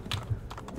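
Horse hooves clip-clopping in the video game Assassin's Creed II, a few quick hollow hoof knocks in a brief burst, moderately quiet and close, with no talking.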